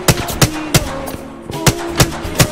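Sharp, evenly spaced gunshots in the video game Apex Legends, about seven distinct cracks in quick succession with a short gap midway, loud and close over a faint background.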